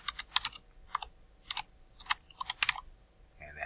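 Programming code is typed on a computer keyboard in irregular clusters of crisp, close key clicks separated by short pauses, with no talking.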